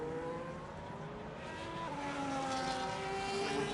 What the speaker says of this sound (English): Haas driver back on the throttle, all the way back to the line